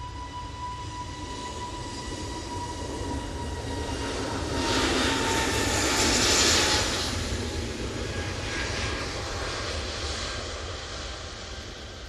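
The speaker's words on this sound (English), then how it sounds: "And Turkish Airlines has just come in." A Turkish Airlines Airbus A321 arriving at Manchester Airport, its engine roar swelling to a peak midway and then easing into a steady rumble, heard from a distance with no talking.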